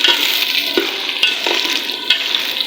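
Medium onions, chopped and washed, fry in a quarter kilo of ghee in a pressure cooker on a stove, giving a steady, close, bright sizzle with a few sharp clicks of stirring.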